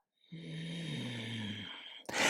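A single long, rasping yoga breathing exhale through the nose and throat, close up, with a snore-like buzzing tone, followed by a brief burst of noise.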